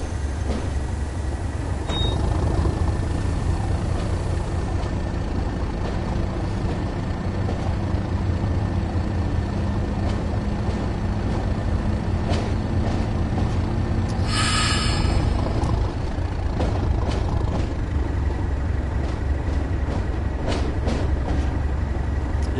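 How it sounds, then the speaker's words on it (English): A British Class 37 diesel locomotive, nicknamed a tractor, drones with a loud, steady engine rumble as it runs down a gradient in the Train Sim World game, with a brief higher tone partway through. "These are Class 37s, nicknamed tractors, because they sound like tractors."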